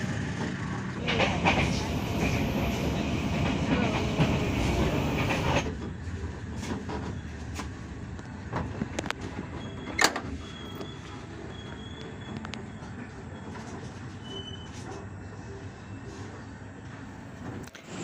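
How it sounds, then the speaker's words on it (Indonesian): Matarmaja economy-class passenger train running at night after leaving Babakan station, a loud rumbling roar with clattering for several seconds, then a quieter steady rolling hum inside the carriage with scattered clicks and a sharp knock. "KA Matarmaja kembali diberangkatkan dari Stasiun Babakan jam 20:47."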